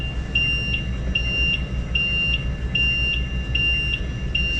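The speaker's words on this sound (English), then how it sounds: "a warning beep" Repeating electronic warning beep from a machine's lid, short pulses at a steady rhythm about every 0.4 seconds over a loud low mechanical hum, close and prominent.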